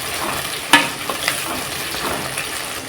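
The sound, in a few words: onion and tomato frying and being stirred in oil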